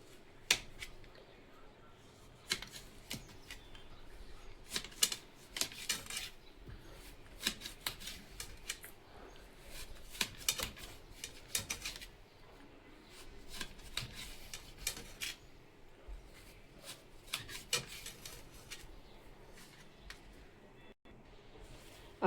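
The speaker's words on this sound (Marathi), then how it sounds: "कैरी आपण छान पातळ चिरून घेणार आहोत" A knife thinly slices raw green mango, making crisp cutting snicks in quick bursts separated by short pauses, close and fairly quiet.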